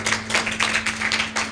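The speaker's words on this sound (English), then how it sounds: "A round of applause for Dr. Kate." An audience at a menopause midlife conference claps for Dr. Kate in a brief, fairly loud burst of applause with pulsing waves of hand claps.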